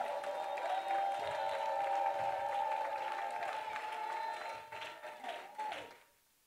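A church congregation claps in praise over a sustained tonal drone of voices. The applause grows patchier and uneven toward the end, then cuts to near silence.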